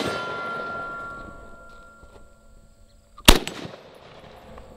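A single sharp rifle shot from a Tavor 7 bullpup chambered in 7.62x51 (.308), one loud near crack with a brief ringing tail, following a stretch of quieter background noise.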